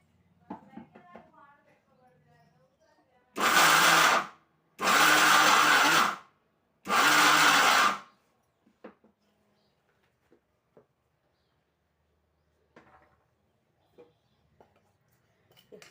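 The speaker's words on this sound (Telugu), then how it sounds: "మిక్సీ పెట్టేస్తాను." Mixer grinder blending coconut chutney with salt: three loud, close whirring bursts, each about a second long and separated by short pauses, with quiet movement and faint talk before and after.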